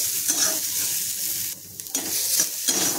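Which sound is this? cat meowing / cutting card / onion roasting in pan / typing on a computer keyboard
onion roasting in pan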